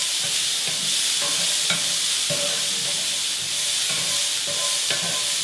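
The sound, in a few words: stirring vegetables in a hot pan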